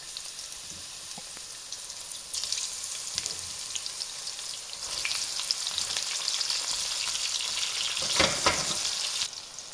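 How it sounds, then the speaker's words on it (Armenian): Eggplant fries in the same hot oil used for potatoes, making a steady close sizzle that swells louder midway, with crackling spatter and no one speaking. "Կարտոֆիլը կարմրել է, հանում ենք ու սկսում ենք տապակել նույն ձեթի մեջ սմբուկը։"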